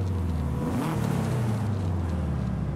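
A Subaru Impreza in Forza Horizon 5 revs loudly and continuously, its engine pitch swelling and dipping through a steady, close drone with no voices over it.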